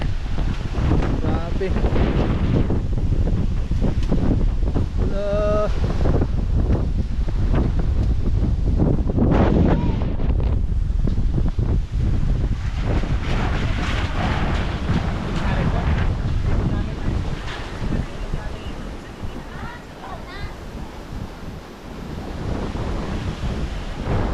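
Strong, gusting typhoon wind buffets the microphone in loud roaring blasts, with a surf-like rush underneath that eases slightly toward the end.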